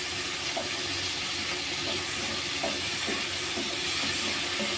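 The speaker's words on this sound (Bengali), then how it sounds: "এই চিংড়ি মাছটা একটু ভেজে নিচ্ছি ভালো করে।" Shrimp frying in a pan for a pointed gourd and shrimp dish, giving a steady close sizzle and hiss with a few soft pops and stirring clicks, heard alone without talk.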